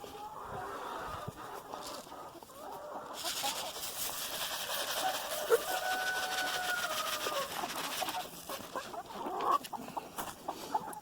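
Homestead chickens gather at first light, a flock clucking and murmuring nearby in a busy, continuous chorus with occasional sharper calls over a low background hum.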